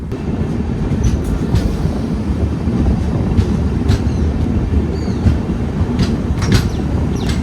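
Tambaram–Kochuveli special LHB train at a station, giving a loud continuous rumble of railcars with faint metallic squeals and clicks over the steady roar.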